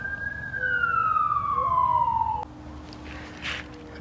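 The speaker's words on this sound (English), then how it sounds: "Unusual for us to have a siren right here." A siren wails with one long falling tone, moderately distant, then cuts off abruptly, leaving faint outdoor background noise.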